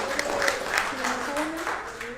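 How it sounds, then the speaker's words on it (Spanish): A church congregation claps through a sermon, a steady broadband patter of many hands under a preacher's continuing voice. "Denle un aplauso al Señor por eso"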